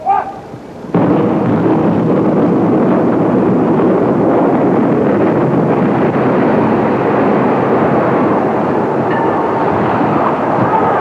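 The 1991 implosion of the Sander Hall building: a sudden huge blast followed by a sustained, loud rumbling roar of collapse and wind buffeting that fills the rest of the stretch.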